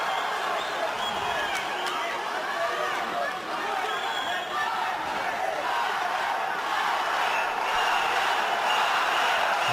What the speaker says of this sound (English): Crowd chanting out Balаев's name.